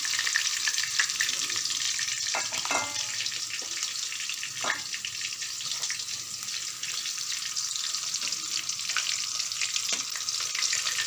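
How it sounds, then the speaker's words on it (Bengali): Chicken pieces fry in hot oil for chilli chicken, a dense continuous sizzle with occasional sharp clinks and scrapes of a utensil turning them, close and steady throughout. "এগুলো সব উল্টে দিয়েছি, ওই দিকটাও এইটার মতো লাল লাল হয়ে ভাজা হয়ে গেলে আমি তুলে নেব"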